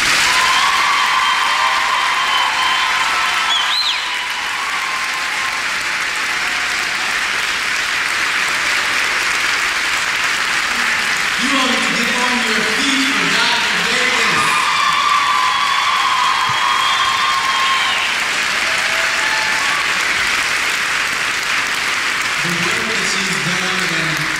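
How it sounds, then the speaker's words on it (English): Concert audience applauding their instructor Dr. Davis at a fall choral concert, sustained steady clapping with some cheers, continuing loudly throughout while voices talk over it. "You would want to give an applause for Dr. Davis"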